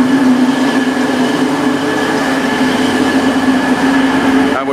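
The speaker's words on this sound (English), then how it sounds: "This train is heading off to Derby without anybody on it." An East Midlands Railway train in its dark red and purple livery pulls out toward Derby, a loud, steady rumble of wheels and engine with a sustained tonal drone throughout, close by on the platform.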